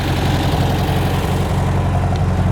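An upgraded 1680 cc engine in a 1972 VW Karmann Ghia idles steadily and close by, a continuous low rumble with a fast, even pulse and no voices.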